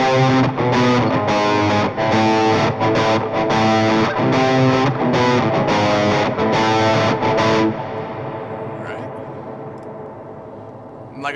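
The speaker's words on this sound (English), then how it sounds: "I actually enjoyed making leads a lot more with the crunch guitars with the delay on and the reverb on as well" Crunchy distorted electric guitar through the Toneforge Misha Mansoor amp plugin with delay and reverb, loud sustained chords and riffs for about eight seconds, then a quieter trailing reverb and delay tail fading out.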